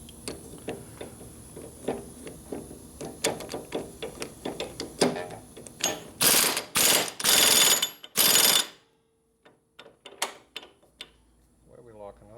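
A big socket wrench ratchets on a 1957 Harley-Davidson panhead engine, a long run of quick clicking strokes close by, then several loud harsh grinding bursts before the sound drops away.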